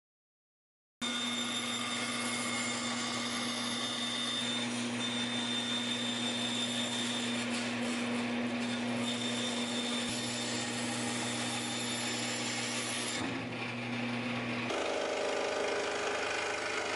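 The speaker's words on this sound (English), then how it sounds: "I'm going to cut away some of the excess material here" A power saw cuts through thick half-inch plywood in a steady, loud, continuous run of about sixteen seconds. The motor pitch dips briefly near the end before the cut finishes, and no one speaks.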